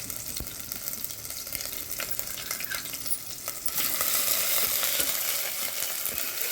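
Cumin, chilli and ginger-garlic paste sizzle and crackle in hot oil for a kulith soup, a dense steady frying hiss that swells louder partway through, with light stirring clicks.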